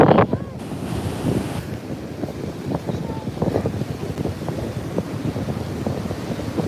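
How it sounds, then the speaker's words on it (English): Ocean waves break and wash onto the sand at Juno Beach, a loud, continuous surging rush with heavy wind buffeting the microphone. "the waves are beautiful, aren't they?"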